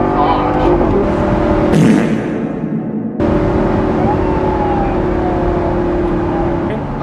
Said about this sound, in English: There was a siren that just went off.